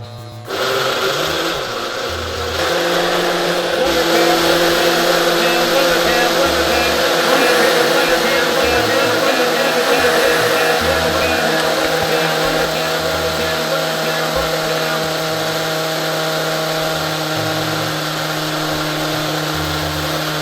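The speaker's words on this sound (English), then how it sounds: "we're gonna go ahead and cue up the blender cam. We'll get this going." Countertop blender running a full glass of smoothie with cinnamon, a loud continuous motor whine with a steady tonal hum that starts abruptly and holds for the whole stretch.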